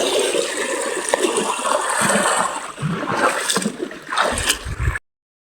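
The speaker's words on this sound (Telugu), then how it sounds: "వాటర్ ఇట్లా ఫాస్ట్గా పోతున్నాయి" Irrigation water rushing fast through a paddy field, a loud continuous gurgling and splashing flow with surging bursts, close by, ending abruptly.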